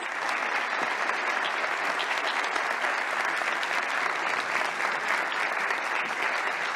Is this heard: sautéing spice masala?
no